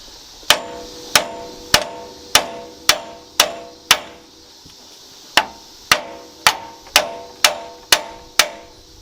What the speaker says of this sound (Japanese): フランジを叩いて落としてしまえば取れるんだけど